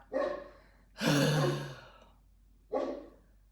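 A dog barks three times, fairly faint and a little distant, with quiet gaps between the barks.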